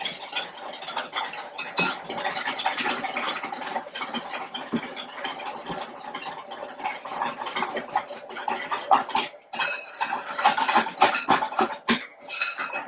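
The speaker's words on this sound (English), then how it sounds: "And then you just whisk that to combine." A whisk scraping and clinking rapidly against a bowl while combining a dry flour dredge with salt and pepper for fried chicken, a steady close metallic rattling with brief pauses.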